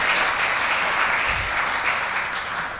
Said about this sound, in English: Please give our benefactors a round of applause.